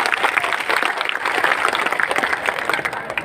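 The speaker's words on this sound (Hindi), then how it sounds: "उन कार्यकर्ताओं के लिए जोरदार तालियां बजाओ" An audience at a Birsa Munda commemoration gathering claps loudly and continuously, a dense burst of applause that holds steady throughout.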